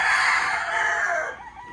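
A gamecock rooster crows once in a long, drawn-out call that tails off at the end, fairly close and clear over strong wind, with no talk.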